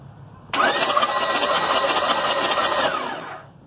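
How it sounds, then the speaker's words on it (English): A diesel engine with its injectors removed cranks over on the starter for about three seconds, a loud steady whirring churn that starts abruptly and winds down at the end, close by and with no talk. "So Anthony right now is going to crank it to see how you can see that these injectors, I'm sorry, not the injectors, the damn cylinders are clean and free"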